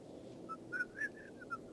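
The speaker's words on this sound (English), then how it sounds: "He whistles tunes while he reloads." A man whistles a tune in a few short, faint notes, rising and falling over a low background hum with no talking.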